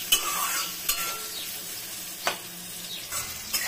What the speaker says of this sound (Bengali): বেগুনটা প্রায় ভাজা হয়ে গেছে, আর একটু ভেজে আমি নামিয়ে নিব বেগুনটা।